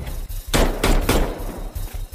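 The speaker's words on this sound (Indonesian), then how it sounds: "Mendengar suara tembakan" Three sharp, loud gunshots ring out in quick succession, each a broad burst with a short decay, over a low rumbling background.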